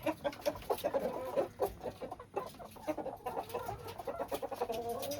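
Black and white hens cluck repeatedly in short, busy bursts, several birds close by with overlapping calls throughout.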